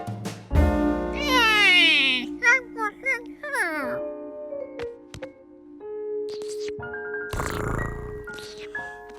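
A cartoon cat meows in several drawn-out, wavering cries alongside a child-like voice, followed by short chimes and a burst of noise near the end.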